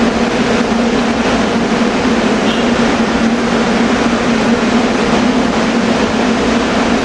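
SEPTA Bombardier push-pull train led by cab car 2405, a loud steady roar with a constant low hum, close by and continuous throughout, with no talking.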